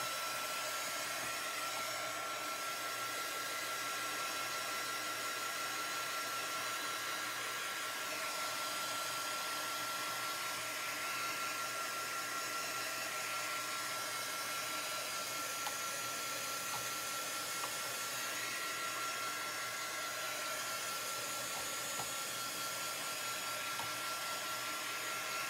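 A hair dryer blows steadily and loudly, a constant rushing airflow with a high whine, running continuously and alone with no talking.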